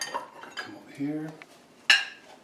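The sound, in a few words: moving a bowl and spoon on a table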